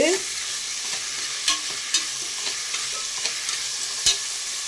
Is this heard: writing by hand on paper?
no